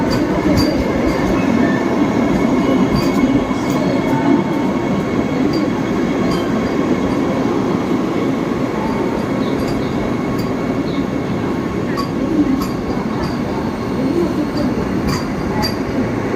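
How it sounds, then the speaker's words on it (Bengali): A long Vande Bharat express train passes through a station in a loud, continuous rumble, with rattling wheels and faint squeals close by. "এই যে বন্দে ভারতম চলে যাচ্ছে"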